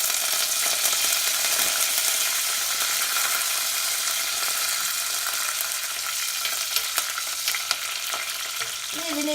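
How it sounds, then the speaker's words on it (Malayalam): Mustard seeds with dried red chillies splutter and crackle steadily in hot oil for a Kerala clam stir fry, a loud, continuous sizzle with scattered pops close by. "കടുക് പൊട്ടുമ്പോൾ കുറച്ച് വറ്റൽമുളക് കൂടെ അതിനകത്തേക്ക് ഇട്ട് കൊടുക്കാം."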